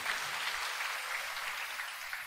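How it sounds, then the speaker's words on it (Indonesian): A church congregation applauds steadily, a dense wash of hand claps held at an even level throughout with no talk over it. "Indonesia tepuk tangan dong, diem-diem aja saudara."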